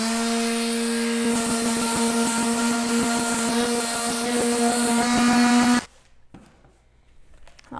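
A bamboo cutting board sanded with 220 grit sandpaper by a steady, loud buzzing power sander that runs continuously for several seconds, then cuts off, leaving quiet handling noises.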